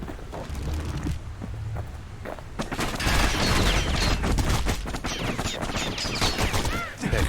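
Dual slinger pistols fire in rapid bursts during combat in the action game Bastion, the volleys close and loud, layered over game effects and music with no talk.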